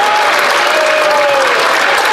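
Loud, dense applause from a parliamentary chamber during a 2024 Canadian federal budget speech, sustained steady clapping over the full stretch with a faint voice blending in.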